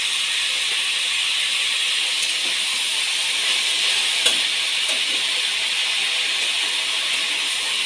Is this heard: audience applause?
no